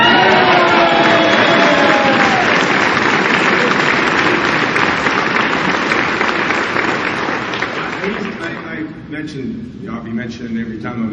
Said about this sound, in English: How about a great round of applause for Tommy Thompson?